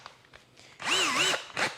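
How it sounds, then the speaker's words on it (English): A power drill bores into purpleheart wood, whining up in a loud rising-and-falling burst for about half a second, preceded by quieter handling sounds and followed by a short second spin. "So I've got a drill that's"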